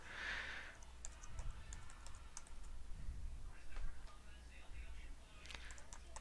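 Fingers tap out code on a computer keyboard with quick, light clicks in short irregular bursts, fairly faint against background hum, while a person talks softly.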